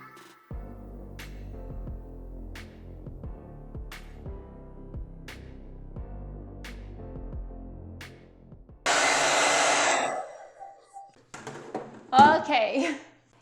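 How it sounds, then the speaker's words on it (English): A hair dryer blows steadily on paint over a freezer paper fabric stencil, a loud close whooshing roar lasting a couple of seconds after quieter background music, followed by rustling handling noises. "I'm just gonna get my hair dryer and let's just use that to speed up the process"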